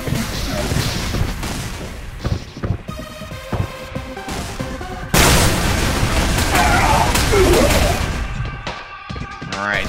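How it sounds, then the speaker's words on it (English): Explosions go off as balls are shot in a multiplayer video game. Loud booming blasts and rapid gunfire-like bursts come dense and continuous, swelling into a sustained roar in the second half. "Shoot those balls and you create an explosion."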